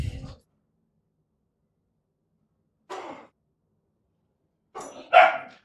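A trio of puppies gives three short, separate bursts of yapping barks at close range, each brief outburst followed by a stretch of silence, the last one loudest.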